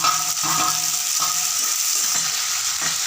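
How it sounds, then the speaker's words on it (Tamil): Shallots, green chili and curry leaves sauté in hot oil for a Tamil garlic kuzhambu, giving a steady close sizzle throughout with a few soft stirring scrapes and no talk. "நல்லா எண்ணெயிலே போட்டு நல்லா வதக்கணும்"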